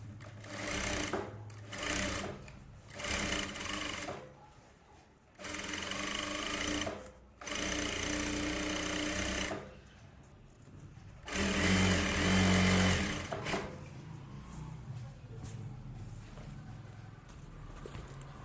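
A sewing machine stitches a blouse lining in quick bursts of whirring, stopping and restarting several times, close and fairly loud, with a longer run near the end and quieter handling noise in between.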